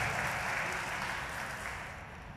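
Audience applause at a spring festival celebration, a dense, steady wash of clapping from a large crowd that holds strong and then slowly tapers off, heard alone without talk.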